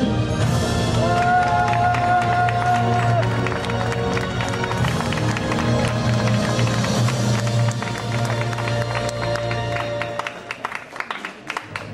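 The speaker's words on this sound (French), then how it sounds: "vous pouvez dès le départ l'applaudir ou alors lui faire une ovation" At the Miss Marquise 2012 beauty pageant, an audience applauds and cheers a contestant, a loud sustained ovation over steady background music that thins out toward the end.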